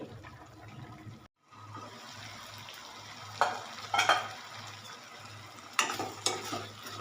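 Ginger paste sautés in a pan with tomato, a soft continuous sizzle with a few louder scraping stirs from a spoon, heard close and without talk.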